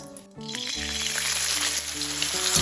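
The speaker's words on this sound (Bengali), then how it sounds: "এটাও ভালোভাবে তেলের সাথে নাড়াচাড়া করে নেব।" Grated onion and ginger frying in hot oil, a steady loud sizzle that starts after a brief quiet moment and holds with occasional stirring scrapes.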